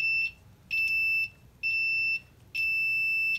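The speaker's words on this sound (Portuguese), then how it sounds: "até ficou mais alto o barulho do buzzer" Continuity tester buzzer sounding across a shorted uninterruptible power supply transformer, four sharp high electronic beeps, each about half a second long, with short gaps between them, clear and alone.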